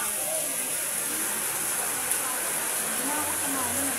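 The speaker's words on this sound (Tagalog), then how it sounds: "Lakas ng ulan." Heavy rain pours outdoors in a steady, loud, even hiss that runs the whole time, with faint low voices underneath.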